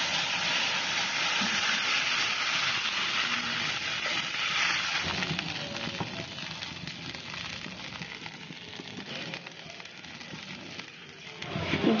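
Water boiling in a cooking pot for a Bengali greens dish: a steady, close bubbling hiss and rumble that eases slightly midway, then swells again at the end.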